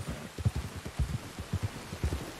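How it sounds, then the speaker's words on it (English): Steady rain in a fishing video game, with soft irregular pattering drops over a low rumbling background throughout. "The rain's coming, huh?"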